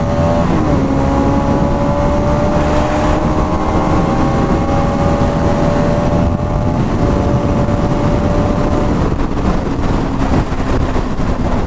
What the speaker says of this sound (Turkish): Şöyle biraz gaz açalım.